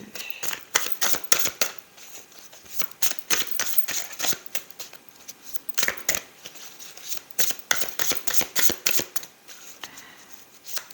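Tarot cards are shuffled and drawn, giving rapid bursts of riffling and flicking that recur in clusters across the stretch, close and crisp, with no talking over them.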